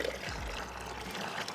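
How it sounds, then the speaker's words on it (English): Hot wort for a home-brewed beer kit is poured into a fermenter, and a short gurgling splash of liquid runs into the vessel before trailing off into a soft trickle, quiet and close. "Pour the rest of that in there."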